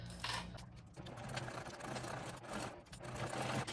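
A sewing machine runs a continuous stitch across a backpack handle seam with D-rings, a steady close mechanical whir that holds for a few seconds without pause.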